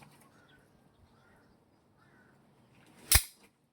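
A slide-action slingshot gun fires a single shot, a sharp loud snap standing alone near the end after quiet fiddling sounds.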